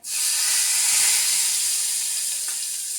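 Hot tempering hits a white green-chili chutney with a sudden loud hiss that rises fast and holds as a steady, bright sizzle, fading slightly toward the end.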